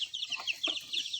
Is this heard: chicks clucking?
yes